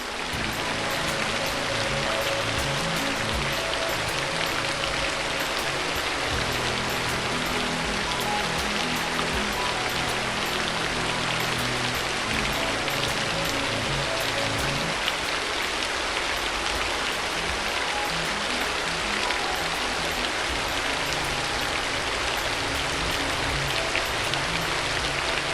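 Heavy rain pours in Chennai during flooding, a dense, steady roar of falling water that stays loud and unbroken with no voices.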